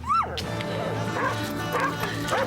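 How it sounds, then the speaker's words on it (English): A dog named Boots yips and whimpers in a series of short, rising calls, close and fairly loud, repeating at intervals over a steady background hum. "we got her brother in, a dog called Boots"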